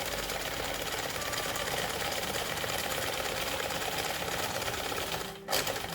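A sewing machine stitches a seam in a cotton face mask, its steady loud needle hum running continuously, with a brief change near the end as the stitching reverses.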